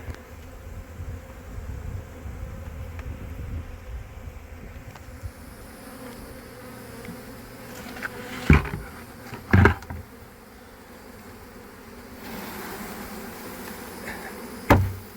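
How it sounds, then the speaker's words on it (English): Honeybees rescued from a bathroom buzz steadily around a caged queen, a soft continuous drone punctuated by a few sharp knocks and thuds nearby. "I got to dump those bees in here too after I strap the queen in."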